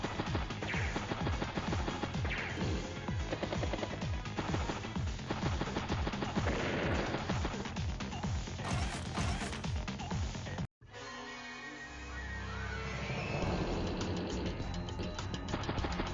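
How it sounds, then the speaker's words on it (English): In the Advance Wars: Days of Ruin strategy game, artillery fires on a tank in a dense, rapid volley of game gunfire and explosion effects that runs steadily, then breaks off abruptly before a rumbling tail. "Next, we get a good strike on that tank. Artillery tank."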